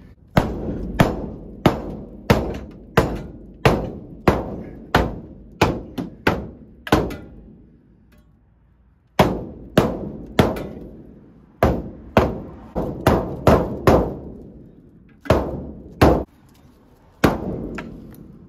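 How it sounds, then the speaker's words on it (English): Sharp metallic hammer blows on Toyota van body metal land in a steady rhythm, about two per second, with a brief pause midway before the hammering resumes. The strikes are loud and close, with no talking. "I think that is pushed out enough to where I can actually hammer against it."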